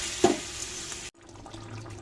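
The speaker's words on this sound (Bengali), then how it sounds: "মশলা কষা হয়ে গেছে, এবার জল দিয়ে দিলাম।" Water is poured into a pan of spiced soybean curry after the masala has been fried, giving a short splash and hiss that stops abruptly after about a second.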